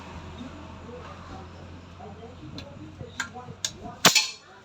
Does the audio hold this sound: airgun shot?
yes